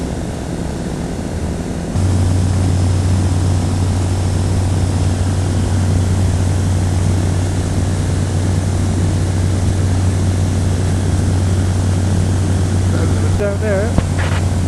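Steady engine drone inside an aircraft flying over scenic country on a trip to North Cape, a loud constant hum throughout with a brief quieter start.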